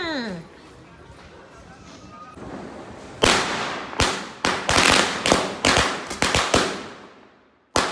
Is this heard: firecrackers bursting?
yes